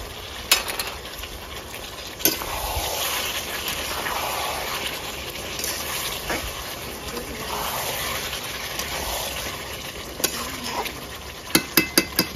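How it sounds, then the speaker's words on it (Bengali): Cauliflower and potato sauté in gravy in a pan with a steady soft sizzle, broken by occasional scraping stirs and a few sharp utensil clinks near the end. "ফুলকপি আলু গ্রেভির সঙ্গে 2 মিনিট কষে নেবো ভালো করে।"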